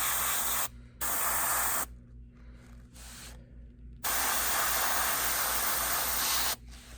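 Black spray paint hissing through a stencil onto a Bengal tiger topwater fishing lure, in several bursts of steady hiss separated by short pauses, close and fairly loud, with no talking.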